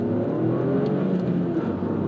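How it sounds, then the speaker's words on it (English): A 1.6-liter turbocharged three-cylinder engine in a 2023 Toyota GR Corolla runs at a steady, fairly quiet level, giving a continuous low hum with no talk over it. "The engine is very quiet though."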